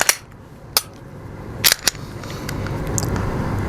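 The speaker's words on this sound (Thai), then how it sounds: "เดี๋ยวขออนุญาตเคลียร์ปืนนะครับ" A handgun being cleared with snap caps, giving a few sharp mechanical clicks and clacks, a pair close together near the middle, over a low steady room hum with no talking.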